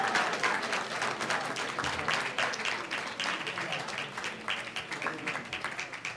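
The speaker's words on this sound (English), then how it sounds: "Let's give them another round of applause." A crowd in a meeting hall claps for the Cajon High cheerleaders, a steady, dense round of applause that stays strong throughout.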